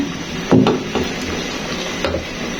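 A spoon scrapes and clacks against a pan while green chilies and raisins are stirred for pulao, giving a few soft knocks over a steady background hiss.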